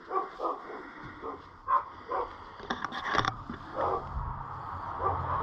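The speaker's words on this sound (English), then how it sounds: "Neighbor dogs definitely don't like it." Neighbouring dogs at a small rural homestead barking and yipping in short bursts from a moderate distance, mixed with faint outdoor noise.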